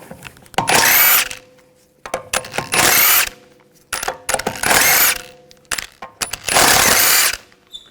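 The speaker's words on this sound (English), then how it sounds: "Using a 17mm socket, take the lug bolts out." A power tool with a 17mm socket removes the lug bolts from the rear wheel of a 2011-2018 Volkswagen Jetta, sounding as four loud, close whirring bursts of about a second each with short pauses between them.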